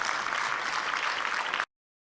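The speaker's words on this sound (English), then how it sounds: "One good round of applause," Steady, dense clapping from a conference audience, loud and continuous for under two seconds before cutting off abruptly into silence.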